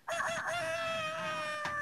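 A voice imitates a rooster crowing, a single loud, sustained nasal cock-a-doodle-doo held for well over a second and heard up close.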